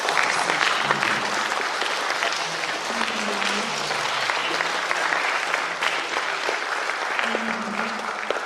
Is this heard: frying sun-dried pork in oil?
no